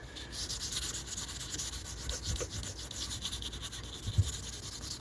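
Wet sandpaper of uncertain grit, around 1000, is rubbed over a Rover 45 car part, giving a steady close scratchy hiss with slight rhythmic strokes and one brief knock near the end, no voices.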